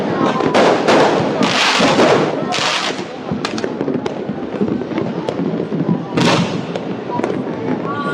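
Rapid crackling bursts and booming pops of a New Year 2024 fireworks display in Pasig, Philippines, going off continuously, dense and loud, with faint voices in the background.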